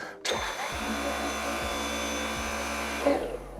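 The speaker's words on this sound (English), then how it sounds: "Your old V8 is going to make more of a whir sound" A Dyson V8 cordless stick vacuum switches on abruptly and whirs at a steady, constant pitch, close and fairly loud, with no one talking.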